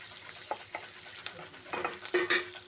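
Softened onions for Telangana-style gongura chutney fry in a pan, giving a gentle sizzle with scattered stirring scrapes that grow louder and busier toward the end, with no talking.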